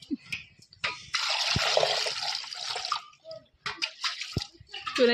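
Water pours in a steady splashing stream for about two seconds, framed by a few clinks and small handling noises.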